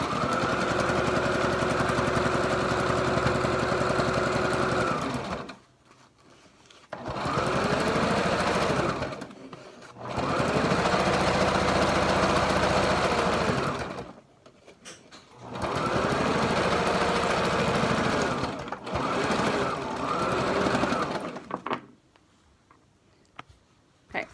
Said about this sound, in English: I always backstitch on every single one of the corners of the mask to make sure that it is secure and reinforced.